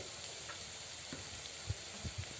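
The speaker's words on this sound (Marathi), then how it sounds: "आता आपला कांदा मिरची लसूण छान परतले गेलं आहे" Onion, green chili and garlic sautéing in a pan for a tiffin dish, a steady soft sizzle with a few faint stirring scrapes, low and alone.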